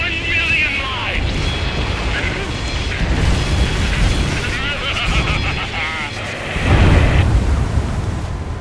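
Explosions boom as the huge Alicorn airship breaks apart in a combat flight game, loud rumbling blasts swelling under game music and radio chatter, with a heavier burst near the end.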